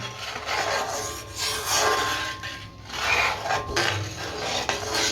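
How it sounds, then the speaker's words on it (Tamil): A thick Tirunelveli halwa mixture is stirred in a pan over a medium flame, giving a steady scraping, rasping rub that swells and fades in slow strokes, close and fairly loud with no talk. "இப்போ மீடியம் ஃப்ளேம்லேயே வச்சு நல்லா மிக்ஸ் பண்ணி விட்டுக்கிட்டே இருப்போம் கலந்து விட்டுக்கிட்டே இருப்போம்"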